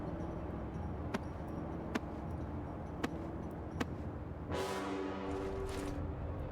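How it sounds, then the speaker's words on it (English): A loud, deep honk in the video game Lords of Shadow bursts in past the midpoint and holds as a sustained horn-like blast. A few soft, evenly spaced ticks come before it over a quiet ambient bed. "What's that big honk for?"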